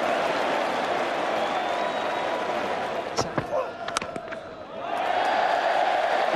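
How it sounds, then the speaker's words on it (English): A loud cricket crowd at a 2009 Ashes Test roars and applauds, a dense steady cheer that dips briefly as scattered sharp claps and shouts cut through, then swells back to full volume. "What a cheer."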